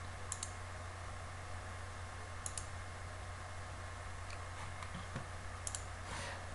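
A computer mouse clicks a few times while someone works in a paint program, the sharp, faint clicks coming in small pairs and spaced irregularly over a steady low hum.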